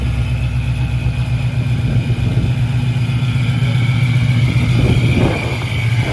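A loud, steady supercharged Ford Mustang 5.0 V8 with long tube headers, catless downpipes and straight pipes burbles at idle, deep and close, with a slight swell near the end.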